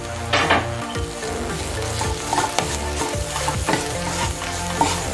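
Sliced pepper and ginger fry loudly in a pan. A steady sizzle runs under scraping and clinking as a utensil stirs against the cookware, close up and without speech.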